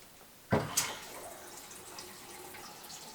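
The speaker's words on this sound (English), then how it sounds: "Now I've got to drain some air out of the lines." A gravity-fed water line in an off-grid cabin in northern Canada being bled at a tap, with a sharp sputter as air escapes, a second spurt, then a faint steady trickle of water running.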